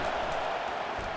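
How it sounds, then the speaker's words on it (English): Stadium crowd at an Alabama vs Oklahoma college football game, a dense, loud, continuous roar filling the whole moment, no breaks. "This crowd trying to make life miserable for this offense."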